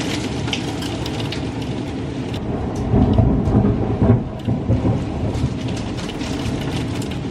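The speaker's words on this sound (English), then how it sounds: "it's hailing" Hail pelting down in a storm, a dense, steady rattling clatter that holds throughout and swells louder around the middle, with rumbling underneath.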